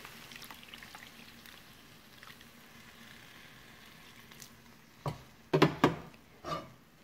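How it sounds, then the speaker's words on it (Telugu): After a quiet stretch, water is poured into a pot of cooking amaranth-leaf dal in a few short splashy bursts near the end. "కాసిన్ని నీళ్ళు యాడ్ చేసుకోవాలి"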